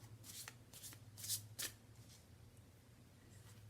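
Tarot cards are shuffled by hand in a few quick riffles and slides, close and fairly soft, with a faint low hum underneath and no talking.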